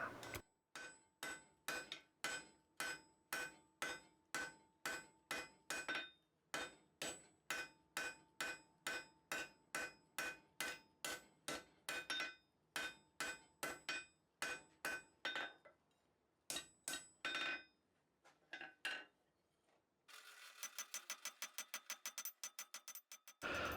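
Hammer blows forge metal for a handle in a long series of sharp, ringing metallic strikes at a steady rhythm, broken by brief pauses and ending in a faster burst of lighter taps, with no speech.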